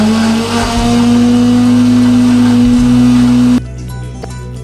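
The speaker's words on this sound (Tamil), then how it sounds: "இப்போ இந்த கீரையை மிக்சியில் மாற்றி நல்லா அடிக்க போகிறோம்." Kitchen mixer grinder blending cooked spinach for a creamy soup: a loud, steady motor whine runs for over three seconds, then cuts off abruptly, leaving quieter residual noise.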